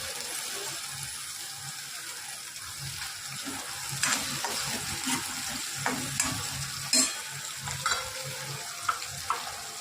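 Tomatoes and a little urad dal frying in a pan for upma, with a steady sizzle and scraping stir strokes that grow sharper toward the end, heard alone without talk.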